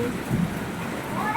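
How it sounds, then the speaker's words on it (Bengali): Heavy first rain of the season after a spell of heat, a steady broadband wash of falling water that runs evenly and close throughout the short stretch. "ঝমঝম করে বৃষ্টি হচ্ছে, আকাশ ডাকছে গুড়গুড় করে"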